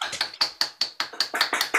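Applause from a few unmuted participants on an online call, a sparse, regular patter of individual claps, close and fairly loud, with no talking.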